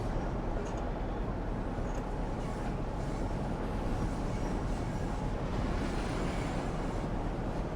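A train runs from Huddersfield to Leeds in the video game Train Sim World 2, giving a steady, dense rumble and rolling rail noise that carries on without a break.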